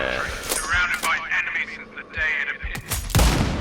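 A single sniper rifle shot in the video game Sniper Ghost Warrior Contracts 2 booms near the end, following game voices and background music.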